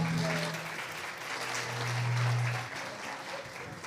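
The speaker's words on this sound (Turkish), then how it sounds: "Alkışlarınız kesilmiyor." Steady, sustained audience applause at a beauty pageant, the Miss Angel of Turkey 2020 contest, with a continuous wash of clapping that fills the room for several seconds.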